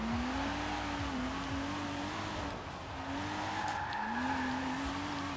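A LEGO Porsche in Forza Horizon 4 drives with a steady engine drone while tires squeal and skid in long wavering slides, loud and continuous with no talk.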